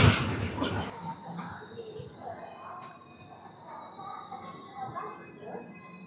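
Secunderabad–Sirpur Kaghaznagar Intercity Express (12757) running along the line, a steady moderate rumble of wheels and carriage with a louder burst at the start, then continuous mid-level rolling noise.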